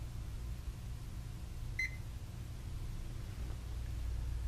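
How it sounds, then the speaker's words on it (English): A single short electronic beep from an MC91 controller confirming the lock sounds once over a steady low background hum. "A beep will sound confirming the lock."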